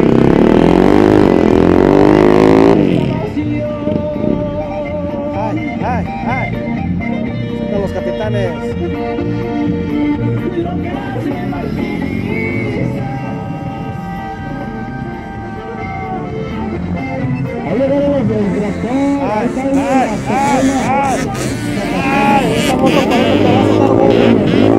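Motorcycles pass through a traffic jam in Altamira. Their engines rev and whine in rising and falling sweeps, loud and close at the start, then rumbling on among other vehicle noise with people talking nearby.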